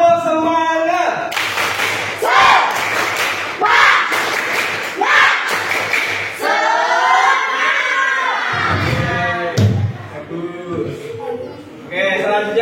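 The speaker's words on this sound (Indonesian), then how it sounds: "kita bersama-sama tepuk semangat" A class of sixth-grade schoolchildren performs a rhythmic group clapping chant, with bursts of synchronized claps and loud shouted voices; a teacher's voice follows near the end.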